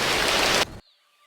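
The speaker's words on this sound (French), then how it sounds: "C'est la pluie." Steady rain hiss, loud and dense, that cuts off abruptly partway through, leaving near silence with a faint tone.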